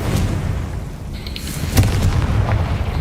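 A Confringo spell blast from Hogwarts Legacy, a low booming explosion with a sharp crack partway through, rumbling over steady game background noise.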